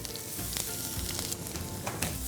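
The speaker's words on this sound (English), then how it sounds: "So you just have to saute this up like this" Ginger and garlic sautéing in a pan for Manchow soup, a loud, dense, continuous close sizzle with a few soft stirring knocks and no voices.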